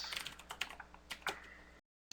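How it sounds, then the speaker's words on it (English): Irregular clicks of fingers typing on a computer keyboard, fairly close, stopping briefly near the end before one last tap. "I can hear you typing"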